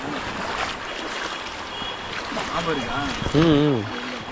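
Steady broadband rush of a flooded river near Siva Kona waterfalls at Rapuru, Andhra Pradesh, running continuously beneath voices that talk over it throughout, with louder speech near the end.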